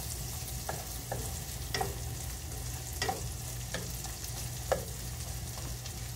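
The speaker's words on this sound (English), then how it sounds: "Now we're going to add our red onion. On high heat." Red onion frying in a pan over high heat gives a steady, close sizzle, broken by scattered light clicks and scrapes of stirring. No one speaks.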